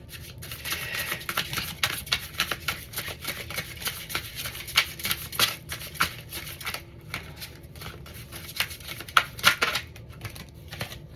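A deck of tarot cards being shuffled by hand: repeated quick riffling and slapping bursts at close range, irregular in rhythm, with no talk.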